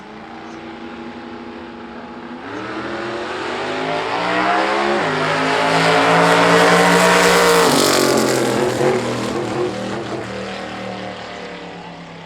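Loud drag racing cars, including a Barra-powered Cortina and a VL with a nitrous Chevrolet V8, roar and rev hard as they accelerate, building to a screaming peak before tapering off, with no talking.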